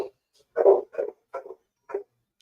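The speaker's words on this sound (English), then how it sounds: "Dog alert." A dog barks four or five times in an uneven sequence, fairly close and clear, with a louder first bark and short silences between barks.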